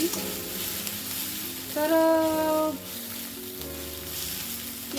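Vegetable filling for samosas fries in a little oil tempered with coriander seeds, a steady close sizzle with stirring, while a voice speaks briefly over it.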